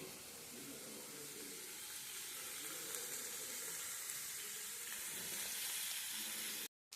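Potatoes sizzle and fry steadily in a pan for potato curry, a continuous close crackle with faint stirring, cut off by a brief silence near the end.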